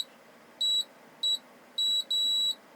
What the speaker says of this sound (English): So what we're looking for is just one beep on one side of the cap.